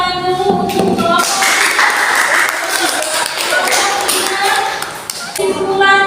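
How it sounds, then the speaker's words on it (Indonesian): A classroom applauds student presentation groups with a burst of clapping that starts after a spoken voice, runs for about four seconds and fades as the voice returns. "Beri tepuk tangan dulu untuk kelompok"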